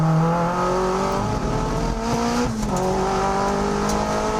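A turbocharged Mazda MX-5 lapping a circuit at a time attack event, its engine droning loud and steady at high revs with pitch sweeping up and down through corners and gear changes, tyres faintly scrubbing.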